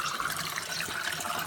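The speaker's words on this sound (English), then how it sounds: "That's the water pump that flows." Water pump pushing water through radial flow filters in a pond or tank system, producing a steady, close splashing and gurgling flow with no talk over it.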